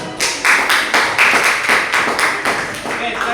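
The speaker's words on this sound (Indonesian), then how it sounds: "Oke, kita beri tepuk tangan." Audience clapping hands in rhythmic unison, about a dozen evenly spaced loud claps, close and steady.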